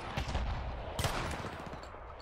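A shotgun fires in Battlefield 1 on a forest battlefield, with a few sharp blasts in quick succession, the strongest near the middle, amid dense, close battle noise.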